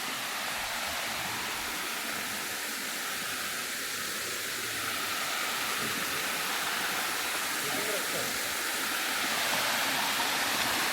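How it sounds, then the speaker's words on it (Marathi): A waterfall in the Yeoor Hills forest gives off a steady, broad rushing hiss that holds evenly from start to finish, heard from some distance away. "दिसतोय धबधबा आता."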